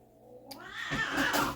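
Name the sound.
cats fighting and yowling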